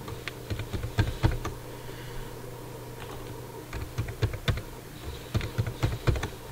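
Keys clatter on a computer keyboard as a password is entered, in quick uneven bursts of close, crisp taps with short pauses between them.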